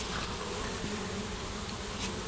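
Honeybees buzzing at a hive entrance on a summer day, a steady dense insect hum close by with no voices over it.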